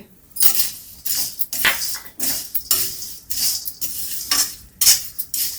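Roasted chickpeas added to a pan with turmeric and stirred, a run of rhythmic scraping and clinking from a spoon against metal, close by and brisk, with a faint sizzle underneath.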